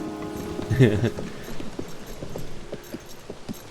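A horse gallops in Zelda: Tears of the Kingdom with a quick, even clip-clop of hooves, one louder burst near the start, then steady strides under a voice.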